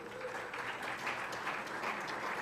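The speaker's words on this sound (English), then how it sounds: "One more round of applause for Larry, please." Applause from a meeting audience honoring guest speaker Larry Gerston, a steady crowd of clapping at moderate volume lasting the whole stretch.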